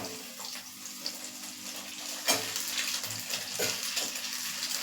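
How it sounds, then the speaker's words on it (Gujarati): Pasta goes into an onion mixture in a pan, giving a soft, steady sizzle and frying hiss with a few light clatters and stirring scrapes, fairly quiet and without talk. "આપણે જે આ ડુંગળીવાળું મિશ્રણ છે તેમાં પાસ્તા એડ કરીશું"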